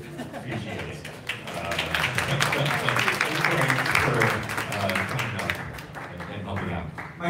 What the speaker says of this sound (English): round of applause for Greg and also appreciate it.